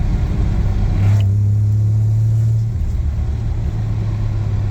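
A Jeep Comanche pickup with a swapped Vortec 4200 engine drives along, a steady loud low engine drone that swells slightly then eases off, with no talking.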